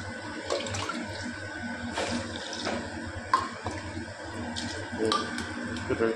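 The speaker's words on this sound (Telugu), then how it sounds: "2 కప్పులు వాటర్ వేసేసి మూత పెట్టేద్దాం." Water pours and splashes steadily into a metal cooking pot for several seconds, with occasional clinks and knocks against metal.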